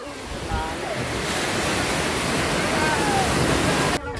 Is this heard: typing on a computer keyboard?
no